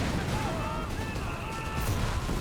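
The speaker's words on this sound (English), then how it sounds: "grenades being chucked here" Grenade blasts and battle noise in the video game Company of Heroes 3, a steady din of artillery-like booms and gunfire with whistling tones, a commentator talking over it.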